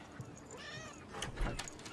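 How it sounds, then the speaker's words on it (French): A house cat meows outdoors at a front door, a couple of wavering cries set against steady background noise. "Je crois qu'il y a votre chat qui est dehors aussi."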